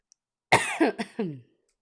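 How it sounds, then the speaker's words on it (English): A person coughs in a short burst of three or four harsh coughs, close and loud, with silence before and after. "I thought my cough disappeared, but I guess it hasn't."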